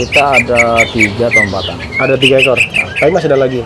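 Green leafbirds (cucak hijau) at a bird kiosk give bright, repeated chirping and warbling phrases, loud and close, under steady conversation between people.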